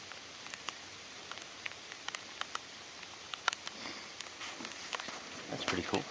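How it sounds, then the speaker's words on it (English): Rain falling outdoors at a deer mineral site and clover food plot, heard as a soft steady patter with scattered sharper drops, fairly faint and continuous. "we're getting a good rain here now"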